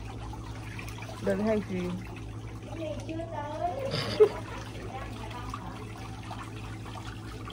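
Hot water runs steadily from a tap in a home kitchen, a continuous trickling wash under a voice talking nearby.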